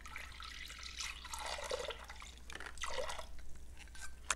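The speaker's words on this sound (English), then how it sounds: "We're just gonna pour it in on around the sides of the meat." Water from a cup poured into a crockpot around the sides of a seasoned brisket, giving a steady trickling, splashing flow in the pot with drips, close and moderately quiet, with no voices.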